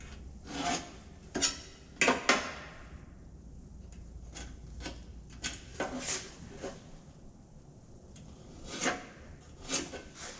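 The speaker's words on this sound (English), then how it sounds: "I'm going to scribe a line like I did on the last one" Scribing a straight line on rocker panel sheet metal: repeated short scratchy strokes, each a brief rasping sweep with small gaps between, close and moderately quiet with no talking.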